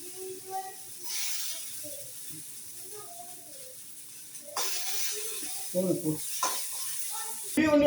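Yesterday's leftover food reheating in a pan before a pani puri tasting, giving a soft sizzle and stirring scrape that swell in short bursts near the end, with people talking over it now and then.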